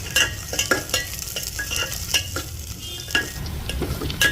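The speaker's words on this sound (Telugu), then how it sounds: "దీంట్లోకి కొద్దిగా కరివేపాకు, అలాగే జీడిపప్పు ఉంది కదా, ఇది కూడా వేస్తున్నాను. మనము ఫ్రై చేసుకోవాలి వీటిని అన్నిటిని." Curry leaves and cashews frying in a pan, a loud close crackling sizzle with repeated scraping strokes of a stirring spoon, no voices.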